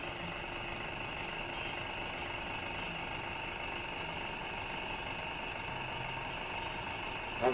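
A small Bedini motor with hard drive magnets mounted on a bicycle wheel spins steadily, giving a faint, constant tonal hum and whine that holds at the same level throughout.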